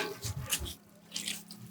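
Water gushes and splashes in uneven spurts from a school handpump with iron-rich water, several pulses of pouring and splashing close by, with a quieter lull between them.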